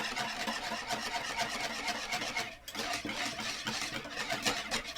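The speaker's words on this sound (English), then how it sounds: "I'm going to whisk in that melted butter" A whisk beats melted butter into a bowl of wet ingredients, including yogurt, for savoury soda bread, giving a quick, faint, continuous clatter of metal against the bowl with one short break midway.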